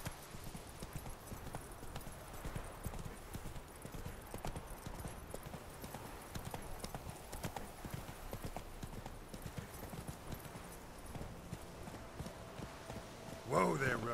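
The horse Roach clip-clops along in The Witcher 3 video game, a steady run of hoofbeats under ambient game sound, with a voice speaking near the end.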